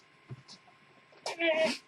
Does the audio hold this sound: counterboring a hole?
no